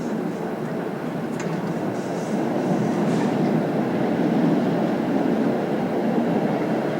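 A Brussels tram rumbles steadily through an enclosed tunnel, a dense low roar with faint clatter that swells slightly as it passes.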